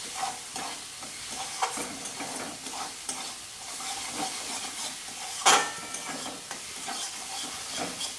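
Spice paste with sugar for potol malai curry sizzles steadily in a pan while a spatula stirs and scrapes in repeated strokes, one louder clack standing out midway; no voices.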